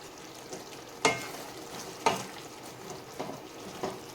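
Fresh curry leaves drop into simmering Tamil tomato gravy, giving a few sharp sizzling crackles about a second apart over a low bubbling background.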